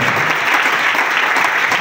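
Audience at a church service clapping, a dense, loud, sustained burst of applause from a crowd, close and steady.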